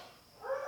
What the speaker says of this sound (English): they just sit out here and bark and bay all day, all night